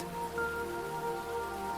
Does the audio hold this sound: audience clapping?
no